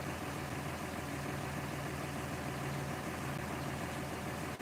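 A truck engine idles in an even, unbroken low drone with a steady hum and no break or voices over it.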